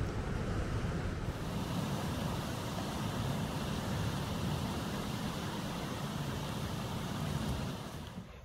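Loud sea surf on a fossil-hunting beach, a continuous heavy roar of breaking waves and wind that fills the whole stretch with steady rumbling, fading slightly at the end.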